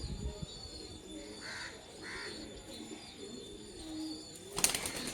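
A pair of pigeons, a Sri Lanka male and a Fulsira female, coo twice at a moderate distance over a low background murmur, ending in a short sharp rustling burst.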